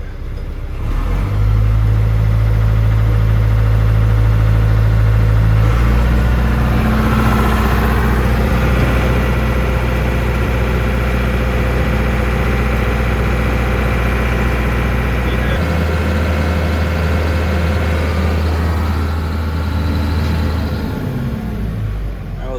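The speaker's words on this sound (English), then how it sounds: "Let's start with the John Deere motor." A heavy John Deere diesel engine rumbles steadily at idle, loud and close, its low drone shifting slightly in pitch as it runs for a long stretch.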